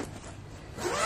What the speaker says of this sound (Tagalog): Nandito yung zipper niya. Pakita ko sa inyo guys yung zipper.